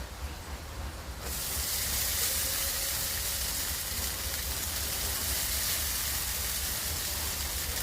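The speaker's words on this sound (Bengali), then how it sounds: "এবার এর মধ্যে চাউমিনগুলো তুলে তুলে দিয়ে দেবো।" Chowmein noodles frying in a pan with already fried onions and chillies, a loud steady sizzle that jumps up after about a second and then holds evenly, with no talking.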